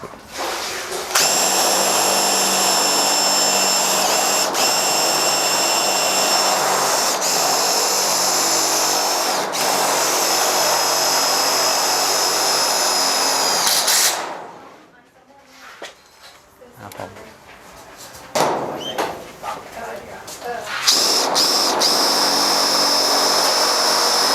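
A Makita 40V TD001G cordless impact driver runs loud and close in a long continuous whirring burst, stops for several seconds, then starts again.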